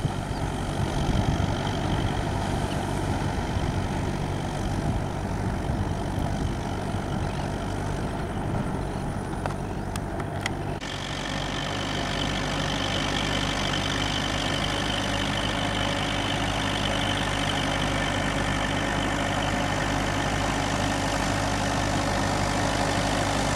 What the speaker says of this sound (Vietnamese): Máy chạy không gạt khói, máy quá êm.